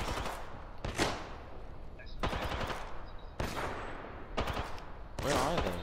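Bursts of automatic gunfire in the battle royale game Apex Legends, about five separate sprays a second or so apart, loud and close, with faint voices underneath.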